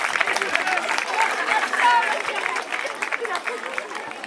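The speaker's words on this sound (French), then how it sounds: "Les 8 arbitres, on peut les applaudir" Audience at an award ceremony for a women's World Cup event in Saint-Chamond applauding the referees, a steady spread of clapping mixed with crowd murmur and voices.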